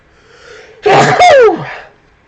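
A single loud sneeze, starting with a soft intake of breath and bursting into a sharp, close explosive sound before trailing off.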